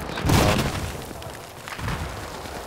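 Grenade explosions in the video game Battlefield 4 give a loud booming burst early on, then a lower rumbling blast trailing off about a second later, with no voices.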